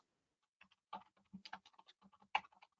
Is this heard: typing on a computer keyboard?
yes